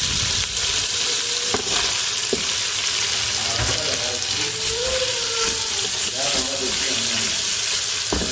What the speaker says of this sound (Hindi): यहाँ पे पहले पोटे को फ्राई कर लूँगी।